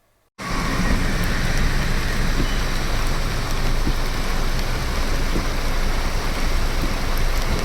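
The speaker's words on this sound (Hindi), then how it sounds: "भारी बारिश के चलते यहां फसल को फायदा हो सकता है।" Heavy rain pours down on farmland, a loud, dense, continuous hiss and patter that starts abruptly and holds steady throughout, with no voices.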